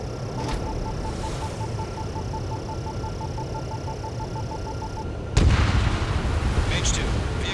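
An anti-air radar vehicle blows up in the Ace Combat 7 combat game, a sudden loud burst cutting over a steady jet drone and beeping tone, followed by rumbling noise and radio chatter.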